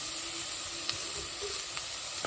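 Chicken pieces sizzle and fry in a hot pan with garlic, a steady close hiss broken by a few sharp crackles and pops, with no voices.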